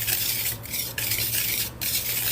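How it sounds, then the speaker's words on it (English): A whisk scrapes and swishes through dry scone ingredients in a bowl, a continuous close rasping stir broken by a couple of brief pauses, with a low steady hum underneath. "Now, I'm going to use this whisk. And then I'm just going to whisk it together."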